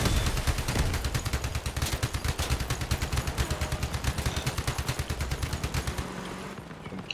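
Guns fire from a Robocraft build on small tracks in a long, loud, evenly paced machine-gun stream close up. The fire stops abruptly near the end, leaving a low rumble.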